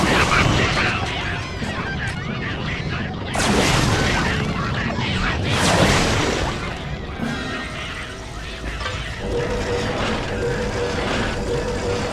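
Bombs drop and explode in Ratchet & Clank Future: A Crack in Time, with heavy booms and crackling blasts over dense game noise, and character voices talking between the explosions.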